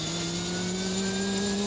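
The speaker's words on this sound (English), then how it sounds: "When you pull the trigger for the start, you hear a whir, and you hear the igniter box in the engine." Huey helicopter turbine engine winding up at start, a steady loud whir with sustained tonal hum and high whine, close and continuous without talk.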